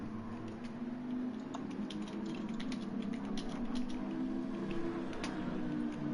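Rapid, light clicking of a computer keyboard being typed on during a sim racing broadcast, steady tapping over a constant background hum, with no speech.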